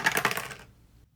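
Two dice are rolled for a cooking game, clattering and rattling sharply and close for about half a second before settling into silence.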